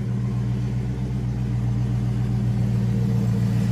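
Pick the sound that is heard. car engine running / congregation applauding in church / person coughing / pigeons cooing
car engine running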